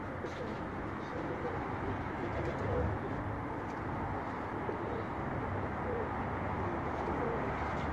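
Pigeons coo softly on a rooftop in Medina amid a steady, noisy outdoor background, with low murmuring calls blending into the constant hiss.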